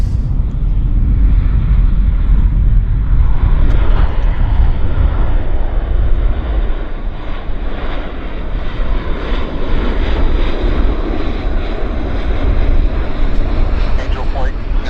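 A WestJet airliner at Vancouver airport roars steadily and loudly throughout, a continuous broadband jet engine rumble with wind buffeting the microphone.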